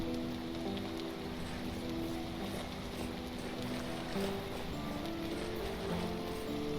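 Rain in the Vintage Story video game makes a soft steady wash with light patter, faint and continuous under a quiet low drone, with no talk.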